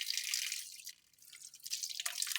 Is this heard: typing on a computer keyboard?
no